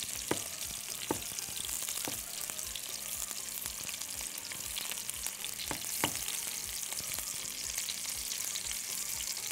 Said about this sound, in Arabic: هنحمر الكفته بتاعتنا تحميره كويسه على نار متوسطه